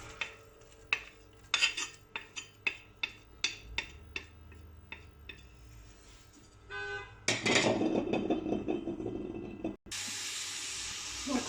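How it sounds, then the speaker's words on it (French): Onion being stirred in a cooking pot for Moroccan vegetable couscous: a run of sharp utensil clicks and scrapes against the pot, then a louder, steady sizzling hiss toward the end, with no talking. "Donc là je vais mélanger"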